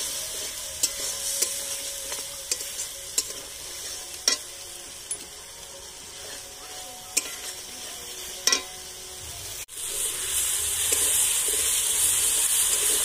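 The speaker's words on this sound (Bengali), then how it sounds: "এবার একটু মশলাটাকে কষিয়ে নেব।" Ground spice paste frying in a pan for mourala fish curry, with a low sizzle and periodic spoon taps, then a sudden louder, hissing surge of frying that continues steadily, with no voices.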